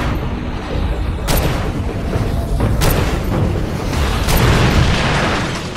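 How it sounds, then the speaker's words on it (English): Liquid propane tanks bursting under gunfire in the video game Far Cry 2, with three sharp booms spaced a second or so apart over a dense, roaring low rumble of fire and ambient game noise. "An interesting way to use fire is to shoot liquid propane tanks."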